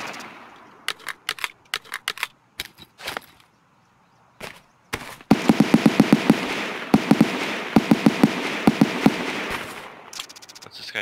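Bursts of gunfire in a shooter game set on the Interchange map of Escape from Tarkov, with sharp single shots and rapid clusters, a brief lull, then a dense stretch of loud, close repeated firing.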